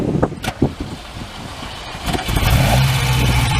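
A 1978 Ferrari 308 GTS V8 engine turns over and catches, then settles into a loud, steady rumble close by at a car show in Chambly, Quebec, with some clunks and handling noises at the start.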